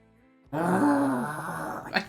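A man imitates a dog growl with his voice, a strained, groaning rasp held for about a second and a half after a quiet start, ending in a short breathy burst.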